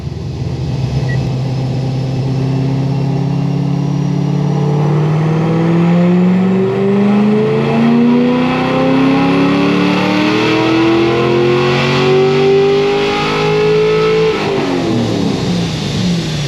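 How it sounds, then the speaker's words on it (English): A car engine on a dyno climbs from low to high revs in one long sweep, loud and close, then drops back sharply near the end. "I'm just putting it back on a dyno, obviously retuning it"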